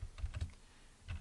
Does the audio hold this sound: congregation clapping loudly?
no